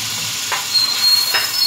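Masala of ginger, garlic and tomato frying in a pan, a loud close hiss of sizzling with two soft stirring scrapes over a short moment, no speech.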